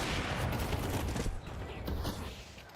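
Rifle fire from a FAMAS and an AK trading shots in Counter-Strike, a steady rattle of rapid reports throughout that eases slightly midway, fairly close and without talk over it.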